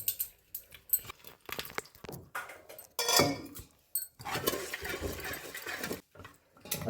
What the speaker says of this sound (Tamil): லைட்டாக தண்ணி ஊற்றி கலக்கி வச்சுக்கலாங்க